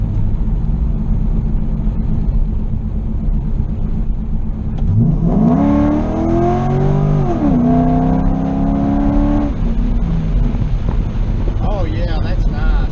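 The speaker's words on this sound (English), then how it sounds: "we're going to try that 1-2 shift again and see how it downshifts here" A car fitted with an HD2 shift kit and servo accelerates through the 1-2 shift and then downshifts, the engine note climbing steadily and then dropping, under steady wind noise, with a person briefly talking.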